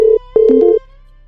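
A phone call's ringing tone sounds as short electronic beeps, a steady pitched tone, a brief gap, then a slightly warbling two-note tone before it stops.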